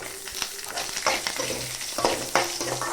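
Dried red chillies, garlic and ginger roast in a pan, crackling and sizzling while a spoon stirs them in repeated scraping strokes and knocks.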